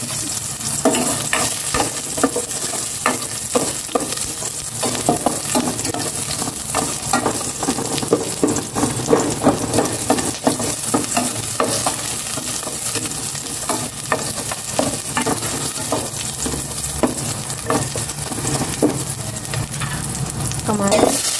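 Garlic and onion sauté in a hot pan for a vegetable stir-fry, a loud, close, unbroken sizzle cut by rapid, busy scraping and clattering strokes of a spatula that keep up throughout with no talking.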